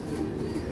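Birds coo in a soft, low, throaty murmur that carries on steadily through the brief moment, moderately close and without talk.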